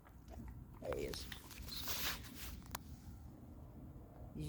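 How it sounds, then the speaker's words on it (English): A dog gnaws on a chicken bone up close, giving faint, irregular crunching bites and chewing sounds in a quiet room, with a few soft background noises between the bites. "My dog is eating a bone right now."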